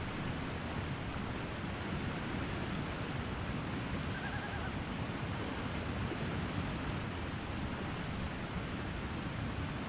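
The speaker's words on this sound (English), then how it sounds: "Nice waterfall over here." Loud waterfall in the video game The Long Dark, a steady broadband roar of rushing water that holds unbroken for the whole stretch with no voices over it.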